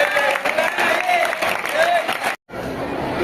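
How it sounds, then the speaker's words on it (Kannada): Students at a school memory workshop clapping loudly together, a dense burst of applause with voices and cheering mixed in, cut off abruptly near the end before quieter room sound resumes. "ಎಲ್ಲರೂ ಚಪ್ಪಾಳೆ ತರ್ತೀರಾ ಜೋರಾಗಿ?"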